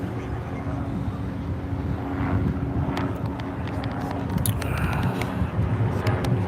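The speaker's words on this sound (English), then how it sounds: "We got another helicopter on the scene." A helicopter circles over the scene of a UPS cargo plane crash in Louisville, its steady low rotor and engine drone continuous and moderately distant, mixed with wind rumble and faint background noise.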